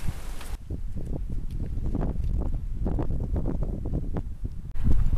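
Gusty wind buffets the microphone on a hillside climb to Castell Dinas Bran, a steady rumbling roar throughout with louder surges near the end.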